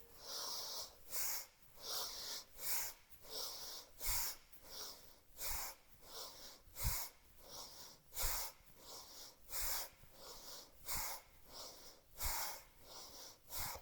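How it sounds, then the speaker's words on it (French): Forceful, rhythmic nasal breathing in a guided breathwork exercise, with sharp emphasized exhales repeating steadily about every second, close and clear, with no talking over it. "On peut amener un peu de rythme dans cette respiration, accentuer les expires, donc les inspires et les expires se font toujours par le nez."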